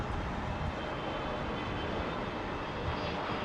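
An Air Malta Airbus A320neo comes in to land at London Heathrow, producing a continuous, dense engine roar that stays loud and even across the moment.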